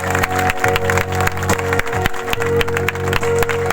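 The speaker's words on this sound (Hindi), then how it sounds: "ताली बजाएंगे सब लोग परमेश्वर के लिए।" A church congregation at a Sunday prayer meeting claps together in steady rhythmic beats, loud and close, with music or a held tone running beneath and brief cheering among the crowd.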